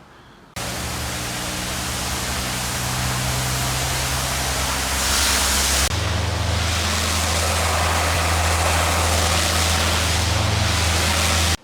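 Power washer cleaning a garage concrete floor, a loud continuous hissing spray over a low pump drone, steady throughout with a brief shift midway and no speech.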